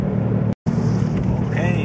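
A car with a 1.6-liter engine engine-braking on a downhill, giving a steady, loud low drone of engine and road noise that cuts out for a split second before resuming.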